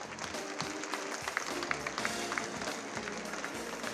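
A crowd applauds steadily, with many hands clapping together at a moderate distance.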